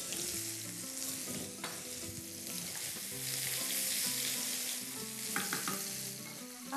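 Onion fries in a pan, a constant close sizzle with crackling spits, while music plays softly in the background.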